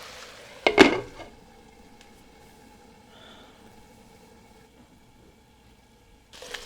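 A metal lid clanks onto a pot of simmering potatoes in one sharp, close clatter, then faint bubbling follows with a small clink at the end.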